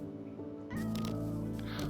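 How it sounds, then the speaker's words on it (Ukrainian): In a modded Minecraft game, a cat meows: a short, close meow that rises out of steady background game music and ambience. "От такий котик гарненький. Я його потім приручу."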